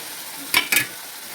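Spice paste and onion frying in oil, a low steady sizzle broken by two quick spatula scrapes in close succession.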